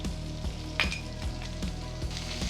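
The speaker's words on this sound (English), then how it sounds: "Just saute it for a few minutes." Sliced onions, carrot and capsicum sauté in a pan, producing a continuous soft sizzle with rhythmic scraping stirs every half second or so.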